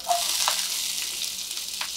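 Chopped onion fries in hot oil with cumin seeds, making a steady hissing sizzle with a few soft stirring clinks, close up and unbroken, with no speech.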